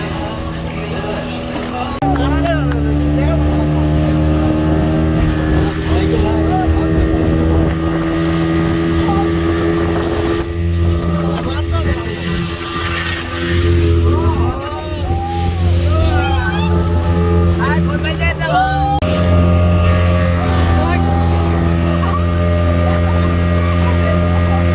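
A speedboat motors across a park pond in Rongpur, its engine holding a loud, steady drone close by for the whole ride, mixed with wind buffeting the microphone and people talking over it.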